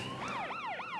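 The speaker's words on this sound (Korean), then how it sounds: "사이렌 소리가 울렸는데요." A siren wails loudly in quick rising and falling sweeps, close and continuous.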